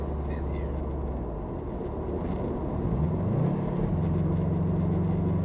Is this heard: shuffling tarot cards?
no